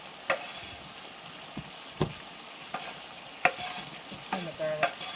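Mushrooms go into a pan of stir-fried carrot, quinoa, onion and pepper; a quiet sizzle sits under scattered scrapes and clinks of a utensil stirring the vegetables.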